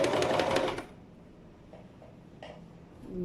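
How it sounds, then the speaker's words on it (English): A sewing machine stitching a zip onto calico runs in a short, close burst of rapid needle strokes, then stops, leaving a quiet room with a few faint clicks of handling. "Remove the pin, you keep sewing."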